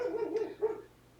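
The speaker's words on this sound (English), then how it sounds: "I am sorry for the dogs next door." Dogs next door bark in a short burst of two or three yips and woofs, moderately close and fairly loud, then fall quiet; no talking.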